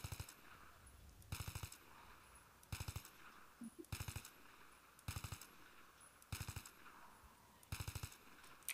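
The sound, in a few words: 3-shot gun bursts in the video game Battlefield 3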